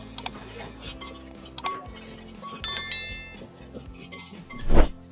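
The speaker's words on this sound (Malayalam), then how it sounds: "ഇനി നമുക്ക് നന്നായിട്ട് ഇതൊന്ന് മിക്സ് ചെയ്ത് കൊടുക്കാം." Spices with fennel and Kashmiri chilli being mixed in a pan, sharp metallic clinks of a spoon against the pan in scattered bursts and a louder scrape at the end, with a voice talking throughout.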